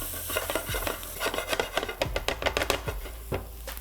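Aubergine cooking in a pan with chilli powder, garam masala and salt for an achari baingan eggplant curry, heard as close stirring scrapes, clinks and soft rubbing against the pan over a faint sizzle.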